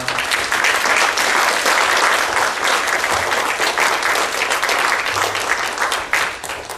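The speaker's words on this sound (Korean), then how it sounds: "나오실 때 박수로 환영하겠습니다." A church congregation claps warmly to welcome a missionary coming forward. The applause is loud, dense and continuous, with no voices over it until it thins at the very end.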